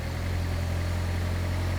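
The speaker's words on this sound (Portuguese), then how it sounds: "Se eu começar a acelerar isso aqui, eu começo a ganhar velocidade, motor de combustão partiu." A Toyota Prius hybrid's petrol engine kicks in while the car gains speed, a faint steady low hum with a constant drone and no voices.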